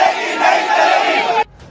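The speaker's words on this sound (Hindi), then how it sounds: "चौराहे पर भीड़ पुलिस प्रशासन के खिलाफ नारेबाजी कर रही है।" A crowd gathered at a crossroads chants slogans against the police, a dense, steady roar of many voices that holds loud for over a second before cutting off abruptly.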